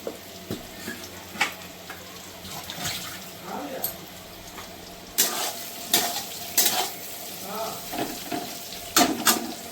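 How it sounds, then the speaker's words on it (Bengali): Oil sizzles steadily in a pan while a utensil stirs soybean chunks, with sharp metallic clinks and scrapes rising above the frying hiss. "ততক্ষণ আমার সয়াবিনটা ভাজা হোক"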